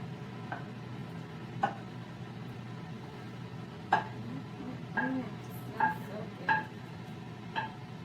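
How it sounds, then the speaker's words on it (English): A spoon stirring chili in a pot, with light scraping and a string of sharp clinks and taps against the metal at irregular intervals over a low background hum. "I'm just going to keep giving it a good stir until I feel that it's warming up a bit."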